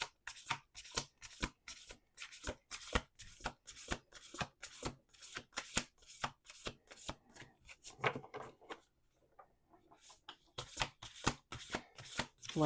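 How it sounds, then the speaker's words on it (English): A deck of cards is shuffled repeatedly up close, crisp riffling bursts in a steady rhythm with a short pause near the end. "Let's do 2 more shuffles."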